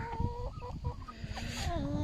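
Naked Neck hens cluck and chatter up close on a small poultry farm, a run of short, bright calls over rustling and low background noise.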